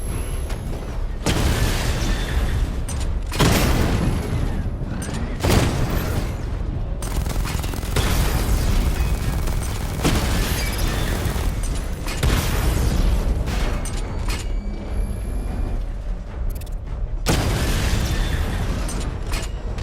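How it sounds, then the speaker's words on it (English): Missile barrage explosions in the video game Batman: Arkham Knight, loud booming bursts in repeated waves separated by short lulls, dense and continuous throughout. "Charge the missile barrage to level 2 to destroy up to 4 targets at once."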